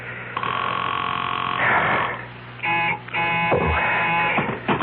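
A telephone rings as a radio drama sound effect, with long electronic ring bursts separated by short pauses, close and clear with no talking.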